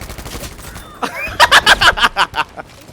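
A Thompson M1928A1 submachine gun fires in Battlefield V: a loud, rapid string of about eight evenly spaced sharp shots in the second half, after a quieter lead-in.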